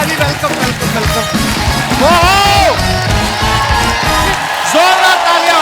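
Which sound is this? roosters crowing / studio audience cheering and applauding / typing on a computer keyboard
studio audience cheering and applauding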